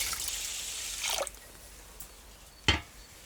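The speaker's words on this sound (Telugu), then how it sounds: "కేజీ బియ్యం రెండు మూడు సార్లు బాగా కడిగి ఒక అరగంట సేపు నానబెట్టుకుందామండి" Basmati rice being washed in water: splashing and swishing in a pot fades out after about a second, followed by quiet drips and one sharp splash near the end.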